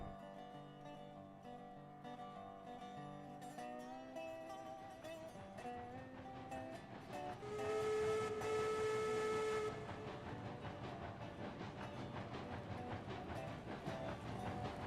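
A video game train runs along railroad tracks with a rolling rumble and clickety-clack, a loud steam whistle blowing for about two seconds midway, other tones sounding throughout.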